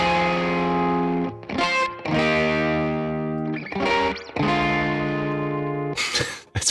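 Distorted electric guitar played through the Neural DSP Morgan amp suite plugin, with sustained chords and short bursts separated by brief gaps, loud and close with no talking.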